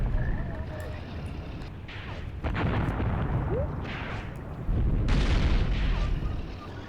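Rumbling artillery barrage in a World War II Eastern Front combat simulator, with deep booming impacts swelling in waves under steady battlefield noise, moderately loud and somewhat distant.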